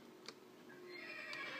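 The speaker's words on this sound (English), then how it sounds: "It's a skeleton horse now." A skeleton horse in a video game lets out a faint, thin neigh and whinny, brief and alone, with a soft clip-clop tick in the background.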